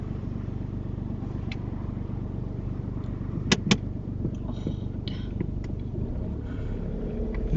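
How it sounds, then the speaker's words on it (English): Another car nears on a road during a driving lesson, heard as a low steady rumble from inside the learner's car, with a couple of brief sharp clicks partway through and no speech. "Wait, there's a car coming."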